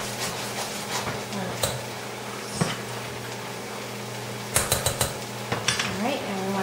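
Butter and flour roux stirred in a pan for roasted red pepper tortellini sauce, with scraping spoon strokes and a few sharp metal clinks against the pan, a steady hum underneath and a voice speaking briefly.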